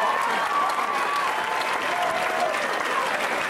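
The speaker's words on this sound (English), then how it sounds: "let's give a huge round of applause for Jill Tarab." A conference audience at a male pageant show gives steady, sustained applause at moderate distance, a continuous wash of clapping with faint voices mixed in.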